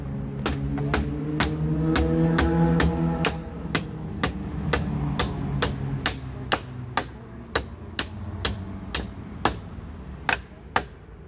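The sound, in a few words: hammering a nail into wooden board with small hammer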